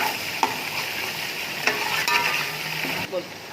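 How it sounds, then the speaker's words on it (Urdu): Ginger garlic paste sizzles and fries with onions in a pot for potato tahari, a steady loud hiss with occasional spoon scrapes and clinks as it is stirred. "اب اس کو اتنا بھونیں گے کہ اس کا کچا پن ختم ہو جائے۔"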